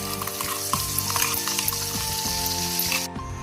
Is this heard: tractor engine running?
no